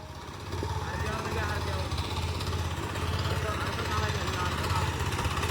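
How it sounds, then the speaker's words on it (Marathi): A tractor engine chugs steadily with a low, rattling drone throughout, close by in rural Konkan, with faint voices mixed in. "इकडे ट्रॅक्टरचा आवाज बघा कसा येतो खडखड खडकाड खडकाड"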